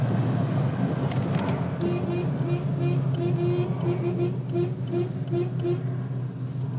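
A Honda S800 sports car, revving up to 8500 rpm and imported into Hong Kong from the UK, drones loudly from inside the cabin while driving, its engine note rising and falling under ongoing conversation between people.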